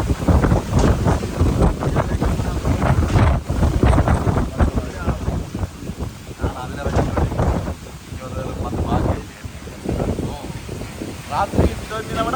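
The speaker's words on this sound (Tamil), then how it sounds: "காற்று கூடுது இப்போ மழை இல்லாமல் காற்று கூடுது" Strong wind without rain roars and buffets the microphone continuously on a storm-hit coast, a loud rushing noise with gusts throughout.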